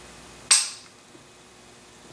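A single sharp crack from a Kahr PM40 pistol, close and abrupt, followed by a short decaying tail and then quiet.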